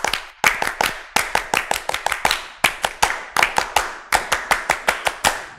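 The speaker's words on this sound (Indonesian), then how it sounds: "Kita tepuk pramukanya 2 kali" Scout-style rhythmic clapping by a school group, sharp synchronized claps in repeating patterned bursts with brief pauses between phrases, crisp and close with no talking.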